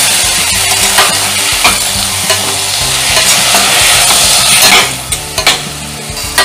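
Cooked jackfruit bhaji is tossed into a hot tempering and stirred, a loud, close, continuous sizzle with intermittent spoon scrapes against the pan and no talking.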